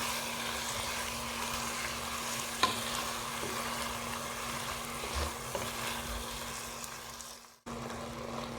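Rice mixed with tomato juice is stirred in a pan for a chicken rice dish, giving a continuous close sizzle with soft scraping strokes and a low steady hum behind it, and no voices.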